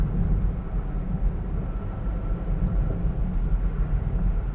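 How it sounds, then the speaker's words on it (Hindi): A steady, low rumbling hum from a worn rear wheel bearing fills a moving 2009 Honda City's cabin, constant and droning beneath road noise, with no voices. "noise of the bearing"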